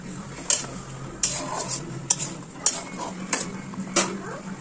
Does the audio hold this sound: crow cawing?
no